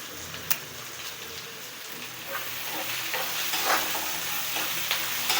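Dried red chillies frying and being stirred in a pan for mutton chukka, a close, steady sizzle with occasional scraping and clinking of the spoon, swelling slightly louder as it goes.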